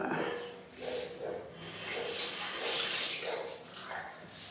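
Tap water runs steadily into a bathroom sink while someone wets their face during a daytime skincare routine, a continuous splashing hiss with soft surges and brief splashes, heard nearby and without speech.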